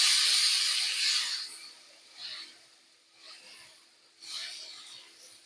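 Food frying in olive oil in a home pan, a bright, crackling sizzle that is strongest at first and then comes back in softer waves. It is close and steady, with no voices.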